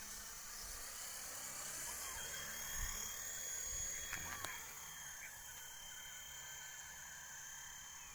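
A V912 radio-controlled model helicopter flies outdoors, its thin high whine steady and fairly faint at a distance, with a few low thumps and a brief sharp click partway through.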